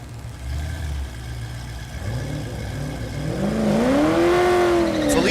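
Drag racing cars on a quarter-mile strip at a dragway, including a supercharged LSA-powered stick-shift car, rumbling at the line and then revving hard and rising in pitch as they launch, a loud, close, sustained engine roar.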